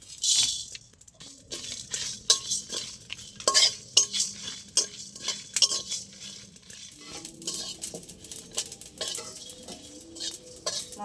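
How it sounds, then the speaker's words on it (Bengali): Coriander seeds, cumin seeds and two dried red chillies are dry-roasted in a kadai and stirred steadily, giving repeated scraping, rattling clicks of spatula on metal for several seconds with no talking. "এবার শুকনো খোলায় কিছু মশলা ভেজে নেবো।"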